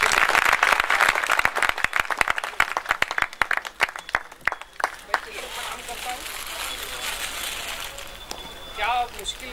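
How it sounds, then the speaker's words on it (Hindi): Applause at a Hindi poetry gathering starts as a loud, dense burst, thins into scattered individual claps, then fades into murmuring room noise with faint voices near the end. "एक बार जोरदार तालियां बजाएं"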